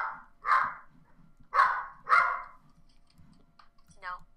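A dog in the Gmod video game gives three loud barks near the start, then quieter clicks and a short final yelp.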